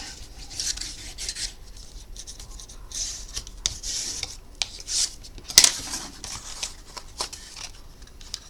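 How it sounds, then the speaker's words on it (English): Handmade paper box being burnished by hand, a series of dry, scratchy rubbing strokes in quick irregular bursts, close up and fairly quiet with no talking. "Burnish it up."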